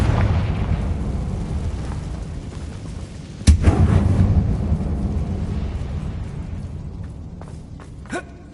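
A Confringo spell blast in the video game Hogwarts Legacy inside a closed mine: one sharp, loud explosive crack midway, followed by a rumbling decay, over a low ambient drone, with a smaller pop near the end.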